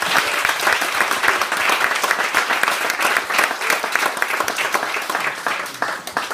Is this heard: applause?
yes